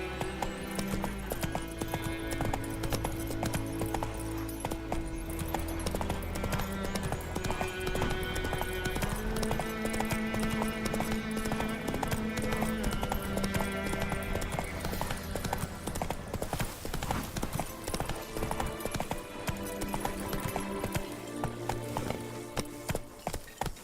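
Hooves of the horse Roach clip-clop in a galloping rhythm in The Witcher 3, running steadily under a continuous bed of orchestral game music.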